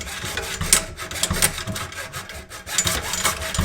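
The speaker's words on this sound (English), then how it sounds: "We're just going to use a hacksaw" A hacksaw cuts back and forth through a drain pipe under a bathroom vanity, making short rasping strokes in an uneven rhythm, close and moderately loud with no talking.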